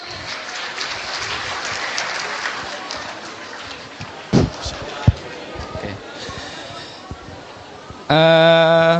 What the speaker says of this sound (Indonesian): Oke, berikan tepuk tangan yang meriah dulu teman-teman.